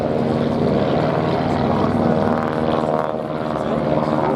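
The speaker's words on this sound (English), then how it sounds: "owning this Fokker DR1 triplane replica" A Fokker DR1 triplane replica flies at a WW1 air display at Duxford, its propeller engine droning steadily and loud overhead, swelling and fading slightly as it passes.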